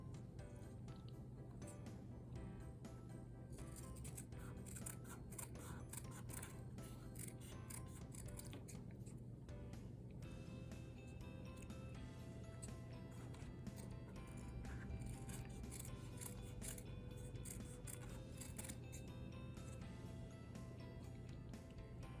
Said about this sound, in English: So I'm just going to cut strips like this and place them throughout the tree.